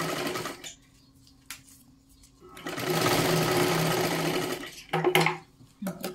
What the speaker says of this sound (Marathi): परत एकदा डबल शिलाई घ्यायची आहे त्याच्यावरची